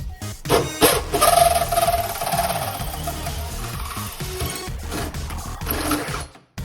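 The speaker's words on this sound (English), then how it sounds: "Running my hole saw now." A 1 1/4 inch bimetal hole saw cutting a hole during a water maker install, a loud grinding, fluctuating whir with rough chattering bursts that cuts off abruptly near the end.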